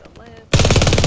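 Sustained rapid bursts of machine gun fire in a video game, erupting suddenly and loudly after a short quiet stretch with faint talk, then hammering on without pause.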